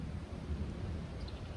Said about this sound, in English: the thunder is rolling over in the background.